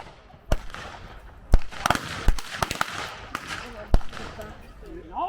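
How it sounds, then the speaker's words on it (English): Rapid bursts of gunshots crack out one after another in a staged Western gunfight show, loud and close, with smoke and a busy background of commotion between the shots. "A full-blown gunfight erupts, shots firing, smoke filling the air and plenty of noise."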